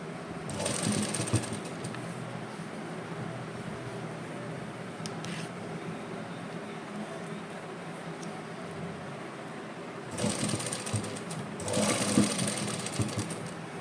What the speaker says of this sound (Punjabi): ਥੋੜੀ ਥੋੜੀ ਆਪਾਂ ਲੈਸ ਨੂੰ ਫੜਾਂਗੇ ਤੇ ਥੋੜੀ ਥੋੜੀ ਸਲਾਈ ਲਗਾਵਾਂਗੇ